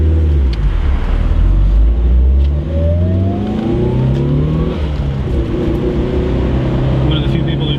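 A lowered Mitsubishi Evo is driven on a road around Leesburg and heard from inside the cabin, with a loud, deep engine drone that rises and falls with speed.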